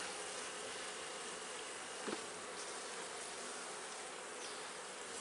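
Honey bees buzz in a steady, close drone over a brood frame being lifted from a strong hive, with one brief louder flicker partway through and no voices.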